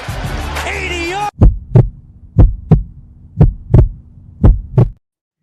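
A heartbeat sound effect opening a Cincinnati Bengals fan show, with steady paired lub-dub thumps repeating about four times, loud and alone after a brief hum.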